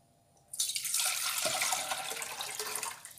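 Water for a non-alcoholic basil lemon drink pours steadily into a container, starting abruptly and running loud and continuous for nearly three seconds before easing slightly.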